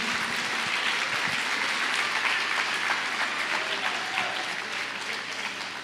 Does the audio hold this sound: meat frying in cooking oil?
no